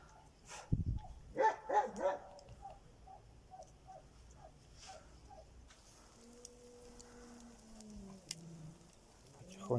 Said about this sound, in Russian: Злой пес.